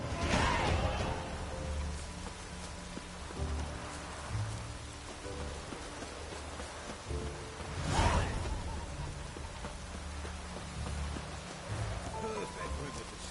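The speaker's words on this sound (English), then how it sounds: "it's raining" Rain falling in The Witcher 3 video game, a steady soft patter on surfaces with a louder whooshing gust near the start and another midway, faint speech-like traces underneath.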